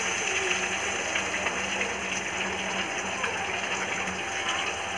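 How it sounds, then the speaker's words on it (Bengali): Water pours steadily into a pan of sautéed potatoes, a continuous rushing gush held at even loudness throughout with no break and no talking. "আলুটা ভালোভাবে কষানো হয়ে গেছে, এবার মধ্যে জল দিয়ে দেবো পরিমাণ মতো"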